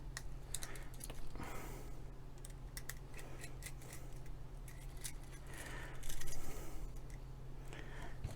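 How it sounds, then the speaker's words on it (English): Screws are worked loose to open a current probe, a faint series of small metallic clicks and ticks from the screwdriver and parts over a quiet steady hum, with a brief louder scrape near the end. "let's just unscrew the screws to see what we find"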